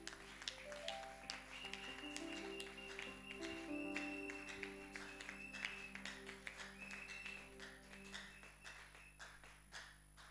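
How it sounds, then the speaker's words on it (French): A church congregation applauding during a Sunday service, a steady patter of many hands clapping at a moderate distance, with sustained organ or keyboard tones sounding underneath. "On acclame pour les Seigneurs."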